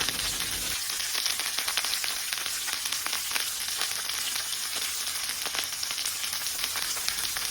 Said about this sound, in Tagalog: Ayan, maglagyan tayo ng bawang at sibuyas.